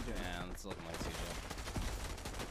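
Rapid SMG gunfire in a gun-game mode of a video game, a dense burst of shots mixed with game sound effects while a commentator talks over it.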